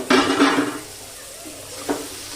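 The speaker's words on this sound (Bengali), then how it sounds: "দেখুন পরে ঢাকনাটা খুলে আমি একবার নেড়ে দেবো।" Brinjal bharta being stirred in a covered pan: two quick scraping stirs with a soft sizzle at the start, then a quiet simmer and one more short clink of the spoon near the end.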